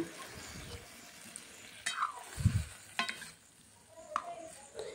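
Water meets a sizzling paste of ground cumin, coriander, chili and mustard in a pan, giving a quiet hiss with a brief low splash and scattered stirring clicks.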